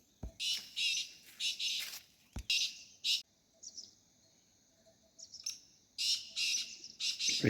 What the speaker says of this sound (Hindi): बरसात में सबसे तेज आवाज़ करने वाला पक्षी तीतर